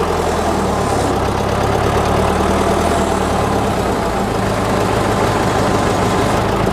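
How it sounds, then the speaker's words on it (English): The engine of a crane idles at a steady, loud, low rumble while the operator pushes a lever to extend the jibs, with no distinct change heard as they move out. No one talks. "When I push it that way, the jibs will come out."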